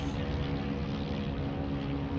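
A steady, droning propeller engine of a Curtiss O-52 Owl observation plane in the game Heroes & Generals, a continuous even hum heard from the cockpit with no pauses.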